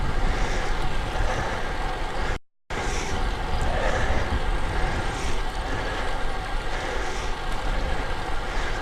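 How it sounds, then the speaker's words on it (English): Steady, blustery wind roars across a shoreline in southern New England on a bike ride, a dense continuous rush with a momentary dropout partway through and no voices. "It can be a little breezy sometimes, as it is right now, right here, especially along the shoreline"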